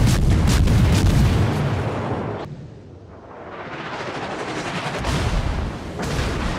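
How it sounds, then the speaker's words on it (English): Warship guns fire in a naval video game, a dense wall of loud, booming artillery that dips briefly in the middle before the heavy, continuous barrage swells back up. "Feuer! Alles feuern!"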